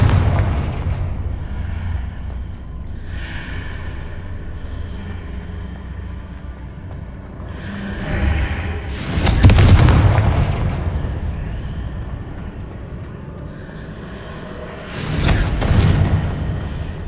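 Two separate Confringo blasting-spell explosions in Hogwarts Legacy, each a sharp loud burst swelling into a rumbling boom, set several seconds apart over a quiet ambient game backdrop.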